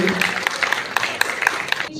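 An audience bursts into loud, steady applause after a lamp-lighting ceremony at a West Bengal Higher Secondary exam event, the dense clapping continuous with sharper peaks scattered throughout.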